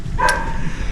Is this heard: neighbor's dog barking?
yes